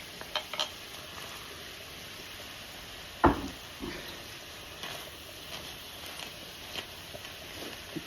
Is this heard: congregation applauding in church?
no